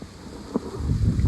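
Wind blows outdoors on a fall day, buffeting the microphone with a low rumbling roar that grows stronger and gustier in the second half; no voices.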